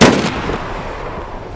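A single loud gunshot from a video game firearm cracks out at the start, then its boom rolls off into a low reverberant tail with no talking.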